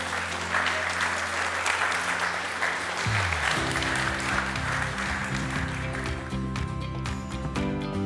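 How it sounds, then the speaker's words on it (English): An audience at an evening creative event bursts into loud, sustained applause, a dense wash of clapping that fills the space with music joining partway through. "Give yourself a massive round of applause"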